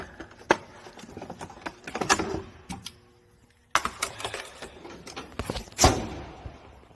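A torque wrench is handled while working on a 2013 Mercedes-Benz C250, giving sharp metallic clicks and clinks in short irregular bursts, close by, with a quiet pause midway.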